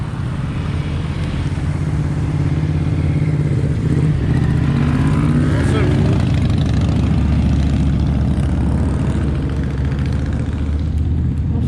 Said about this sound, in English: Traffic up here, lots of motorbikes, lots of cyclists, lots of cars